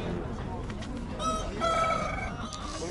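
A rooster crows once, loud and drawn out with a rising then sustained call, at a busy animal market where people talk and bargain in the background.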